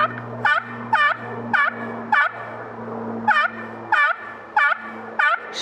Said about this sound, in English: Gobbler yelp is more like this.